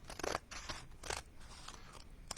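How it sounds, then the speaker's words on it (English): Scissors trimming the edge of a paper card, crisp snipping cuts in an uneven series of about five close, sharp bursts with quiet gaps between them. "I'm just taking my scissors"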